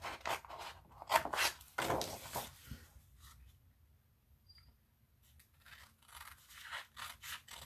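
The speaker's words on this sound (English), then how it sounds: "Scissors. I'm going to cut out the tree." Scissors snip out a paper gift tag in a quiet room, a series of soft, close crisp cuts in irregular bursts with short pauses between.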